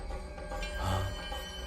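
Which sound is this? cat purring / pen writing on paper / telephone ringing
telephone ringing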